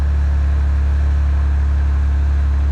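A John Deere tractor engine idles close by with a loud, steady low drone that does not change through the clip.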